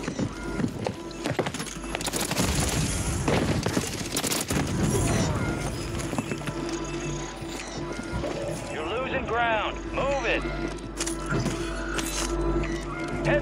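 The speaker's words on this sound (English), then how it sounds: "The dudes right there keep shooting at me." Enemy gunfire in the Warzone battle royale on Rebirth Island, dense bursts of shots and game effects running steadily throughout, mixed with music and a player talking over it.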